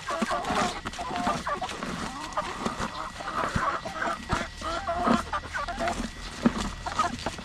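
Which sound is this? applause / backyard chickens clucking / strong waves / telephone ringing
backyard chickens clucking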